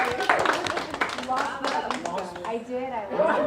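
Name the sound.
audience applause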